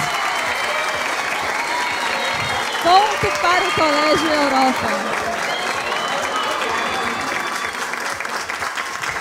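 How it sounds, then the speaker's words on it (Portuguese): An audience at a school quiz-show final breaks into steady applause with some cheering after a correct answer, sustained clapping running throughout while an announcer speaks over it. "E a torcida vai ao delírio."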